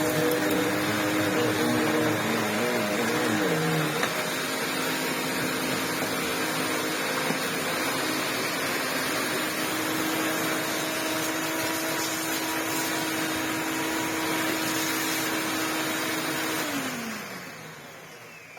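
Electrolux vacuum cleaner fitted with a non-genuine paper bag runs steadily with a loud, continuous motor whine and airflow roar, its pitch shifting slightly early on before spinning down at the end.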